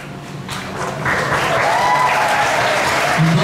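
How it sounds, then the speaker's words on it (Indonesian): Audience applause at a school flag ceremony marking Indonesian Independence Day, a steady wash of clapping that swells after the first second and holds, fairly close, without talk. "Beri aplaus untuk"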